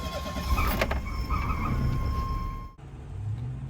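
A Renault LeSharo motorhome engine runs with a steady close rumble and a whining tone, then cuts off abruptly before a quieter idle-like hum returns.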